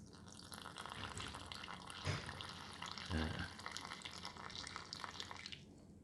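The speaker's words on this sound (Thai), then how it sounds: "ผมเทน้ำใส่เข้าไปประมาณแค่ 4ออนนะฮะ น้ำมันจะออกมาตรงนี้ประมาณ 2ออน นะฮะ" Water poured through a tea bag to brew iced tea, a steady close trickle with a couple of brief splashy surges partway through, fairly quiet and broadband, ending abruptly near the end.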